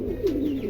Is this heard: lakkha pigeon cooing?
yes